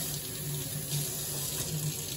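Tap water runs steadily into a sink to rinse potpourri ingredients, a close, even splashing hiss with no voices.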